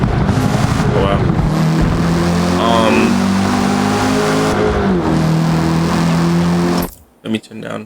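Race car engine in the Forza Motorsport video game, a loud continuous drone with shifting revs throughout, cutting out abruptly near the end.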